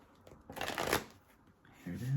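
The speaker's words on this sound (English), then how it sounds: "Last shuffle." Tarot cards get a quick riffle shuffle, a brief close crisp flutter lasting about half a second, with a faint voice starting up just after.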